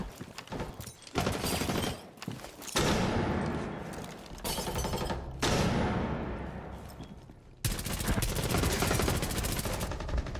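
Rainbow Six Siege gunfire rattles out in several loud automatic bursts, with sharp wallbang shots fired through surfaces, separated by short pauses.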